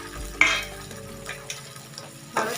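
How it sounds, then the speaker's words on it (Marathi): Tomato and turmeric sautéing in a pan for besan zunka, a soft sizzle under occasional spoon clinks and scraping strokes against the pan, close and fairly quiet, with no talk. "टोमॅटो सुद्धा आपल्याला चांगला परतवून घ्यायचा आहे"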